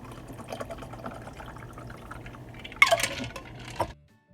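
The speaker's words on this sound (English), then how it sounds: "And now we're going to pour it" A blue motorcycle cocktail poured into a glass at home, a liquid splash and gurgle rising near the end over a quiet room background, then stopping abruptly.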